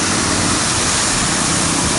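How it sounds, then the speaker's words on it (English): Rushing, splashing water pours steadily from the Rhapsody fountain in downtown Kelowna, a loud, close, unbroken wash of sound. "This fountain called Rhapsody."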